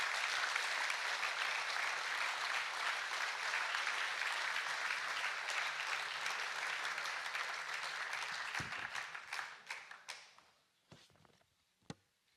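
An audience applauds participants at a trades olympiad event, with steady, dense clapping that holds for about eight seconds, then thins out and fades into a few isolated final claps.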